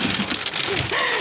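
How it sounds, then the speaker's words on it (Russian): Hail pelts a car during a storm, a dense loud rattling patter of hailstones drumming on the body and roof heard from inside, steady and close throughout. "мы не можем выйти из машины, потому что, ребята, у нас идет град"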